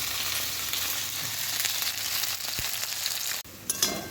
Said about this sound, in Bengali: পটলটাও ভেজে নেবো আর সাথে আলুটাও ভেজে নেব।